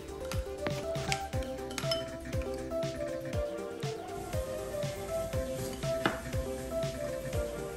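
Sauce of sugar, chili powder, hot olive oil and lime being mixed in a bowl, with repeated clinking and scraping of a utensil against the dish in a steady, busy rhythm close by.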